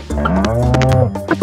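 A cow in the farming game Stardew Valley gives one long, loud, close moo that fills the whole moment, standing alone with no talk over it.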